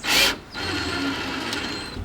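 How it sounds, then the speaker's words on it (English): A screw, 1 1/4 to 1 1/2 inch size 8, is driven into a pre-drilled hole in wood by a power driver. A short burst opens, then a steady whirring grind runs close and loud for over a second. "so now I'm going to take the screw and put it in"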